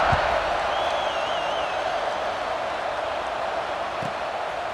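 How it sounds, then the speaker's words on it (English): Stadium crowd at a college football game, Michigan against Penn State, roaring steadily during a kickoff, a dense sustained wash of cheering with a brief whistle over it. "this crowd is feeling themselves after that last drive"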